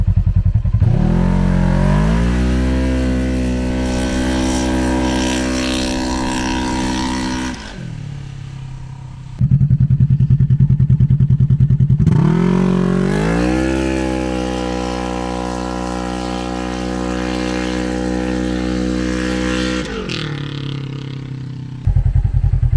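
A Polaris RZR XP 1000 side-by-side with a 1000 cc engine revving hard on a rocky trail, two long loud close runs climbing in pitch and holding high, separated by a brief idle.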